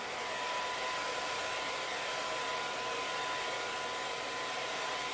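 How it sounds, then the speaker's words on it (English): A Smooth-air T-360 hair dryer blows steadily while drying hair, a loud continuous airy roar with a faint high whine that holds at the same level throughout. "That's the whole point of doing a blow dry like this."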